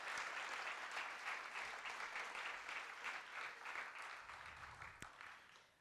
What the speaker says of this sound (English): So just give everybody a round of applause.